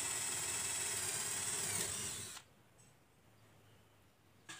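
A J.LD 12V cordless mini drill runs at speed 2 with a high, steady whine for about two seconds, then cuts off, leaving quiet with a faint hum and a brief click at the end.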